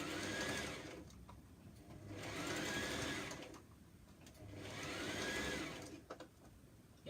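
A sewing machine stitches a seam on a top in three sustained runs of rapid whirring, each a couple of seconds long, separated by short pauses, close and clear without talk.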